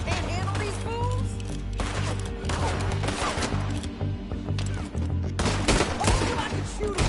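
Gunfire in a Red Dead Redemption 2 shootout: repeated loud bursts of shots, with stretches of quieter gaps between volleys and faint ambient background.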